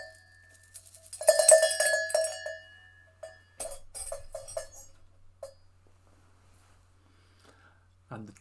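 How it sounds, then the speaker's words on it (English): A sheep bell clanks in two bursts of irregular, ringing metallic knocks, louder at first and then a quicker run of lighter strikes, with quiet gaps between. "In the story, there's a sheep bell as well."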